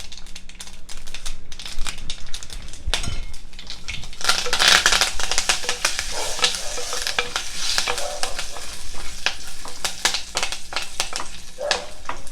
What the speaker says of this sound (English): put a pinch of hing, the red chili, give it a toss, and then the fresh curry leaves